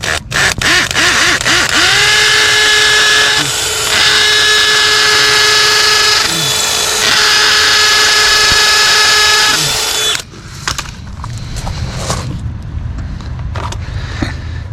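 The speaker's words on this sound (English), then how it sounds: "I'm just gonna run this drill in." A loud, close power drill driving a screw whines steadily for about ten seconds, briefly dipping in pitch under load, then cuts off, leaving faint clatter.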